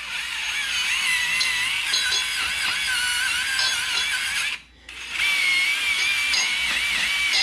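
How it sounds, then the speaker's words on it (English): A small wire brush, spun by a power tool, scrubs a factory wheel bearing hub on a 2013 Dodge Grand Caravan, making a close, continuous high whirring grind that stops for about half a second before resuming. "Little wire brush action. Clean that thing right up."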